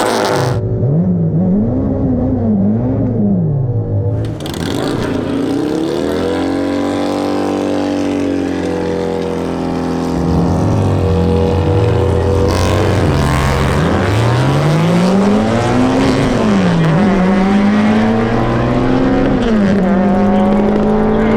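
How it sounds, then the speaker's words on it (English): An all-motor H-swapped Honda EK hatchback at a drag strip holds high revs during a tire-warming burnout, its loud, close engine howl rising and falling in pitch throughout with a steady rasp of spinning tires. "I'm gonna do a burnout this time, just get those tires warmed up"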